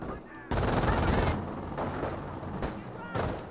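An MG42 machine gun fires in a Company of Heroes battle, with a sudden loud burst of rapid gunfire followed by further bursts and battle noise, while a commentator talks over it.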